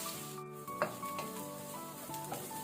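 Onions with salt fry in a pan, giving a soft, steady sizzle with a few stirring scrapes, close and fairly quiet.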